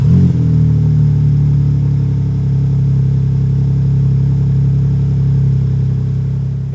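A BMW M3 Touring G81 engine fires up in Sport Plus mode with a sharp burst, then settles into a deep, loud, steady rumble close by, easing slightly toward the end.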